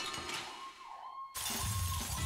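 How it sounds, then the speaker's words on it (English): A strange, wavering siren tone sounds through a noisy Tales of Vesperia game scene, pitch dipping and rising, then abruptly jumping louder with crashing, glassy noise. "That's a really weird siren."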